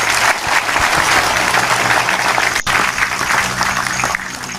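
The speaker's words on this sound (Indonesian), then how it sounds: "tepuk tangan untuk Mas Silop" An indoor audience gives loud, dense applause that holds steady for several seconds with no break.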